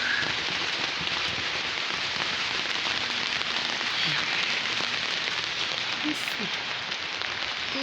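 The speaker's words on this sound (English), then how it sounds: "Look, it is still raining here." Heavy rain falls in a garden as a dense, unbroken hiss of drops pattering on surfaces, steady and loud throughout.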